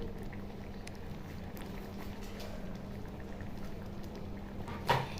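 Vegetable dal bubbles in a pot with ghee and garam masala added, a soft continuous simmering hiss and patter, with a brief knock near the end.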